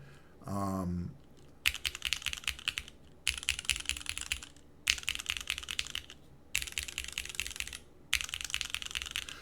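Mechanical keyboard with deep-sounding keycaps typed in four bursts of rapid, clacky keystrokes separated by short pauses, heard close, with a brief voice at the start.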